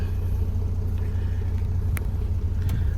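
A Mercedes C350 puts out a steady low engine rumble as it sits in drive and begins to move off, loud and close, with a couple of faint clicks over the drone.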